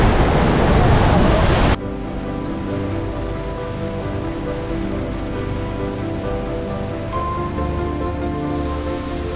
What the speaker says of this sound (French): Là, on est face vraiment aux chutes ici.